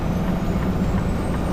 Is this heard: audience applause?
no